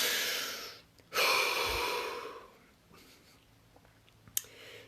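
A slow, deep breath drawn in and let out, close and soft, as two long airy swells with a faint tap near the end.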